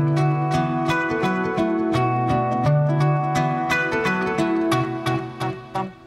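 Celtic fingerstyle acoustic guitar plays a Riverdance melody with a delay effect, plucked notes ringing in a lilting rhythm with repeating echoes over a steady bass line, clear and close with no talking.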